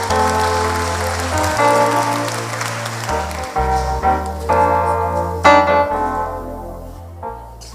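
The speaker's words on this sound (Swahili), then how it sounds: "Tumpigie makofi tafadhali" A congregation at a live Kikuyu church service claps together, the applause blending with loud sustained keyboard music that carries through the whole stretch.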